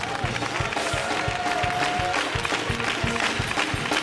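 A church congregation claps in a steady, rhythmic beat while praising, with a loud crowd of voices and music filling the space throughout.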